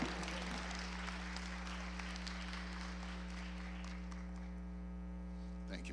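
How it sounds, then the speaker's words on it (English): Fairly faint, steady audience applause at a medical white coat ceremony, set against a strong electrical mains hum that runs under the whole stretch, with the clapping easing toward the end. "Give them a round of applause."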